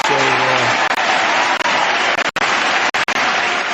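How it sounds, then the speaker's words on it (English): A burst of enthusiastic applause from a crowd, loud and sustained, with a brief voice at the start and a few sharp breaks near the end. "Well, you got applause."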